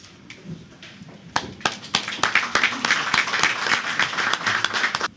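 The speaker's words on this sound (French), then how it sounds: "levons-nous, applaudissons" Audience on its feet applauding at a Beninese gathering, starting with a few scattered claps, then swelling into dense, sustained clapping that stays loud to the end.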